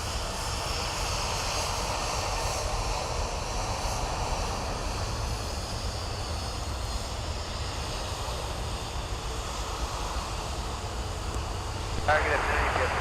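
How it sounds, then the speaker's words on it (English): A jet airliner takes off from runway 17 at Minneapolis–St. Paul airport in freezing winter, making a continuous, loud, broad engine roar that holds steady throughout, heard from a distance. "runway 17, clear for takeoff"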